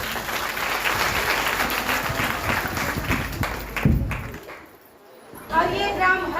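A church congregation clapping loudly together, dense rhythmic applause under a speaking voice that fades out near the end before the voice resumes.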